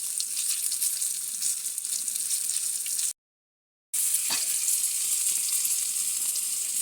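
Fish frying in oil fills the space with a dense, even, close sizzle and crackle, broken by a brief dead-silent gap partway through before the same steady frying resumes with one sharp knock.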